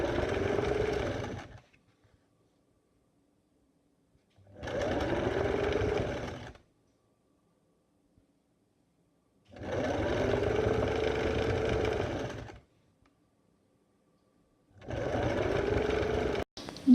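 A sewing machine stitches the hem of a long gown in four separate bursts of about two seconds each, with quiet pauses between them. Each burst is a close, steady mechanical whirr.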